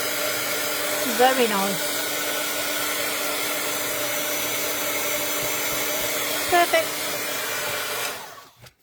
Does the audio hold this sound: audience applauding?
no